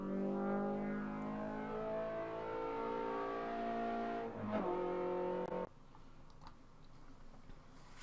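A Mazda race car in a racing video game, an Aggry-Five on the Lime Rock circuit, revs loudly with its engine pitch climbing and shifting for about five seconds, then cuts off abruptly and leaves quieter engine hum.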